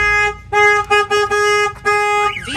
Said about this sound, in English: The alarm is sounding on your vehicle.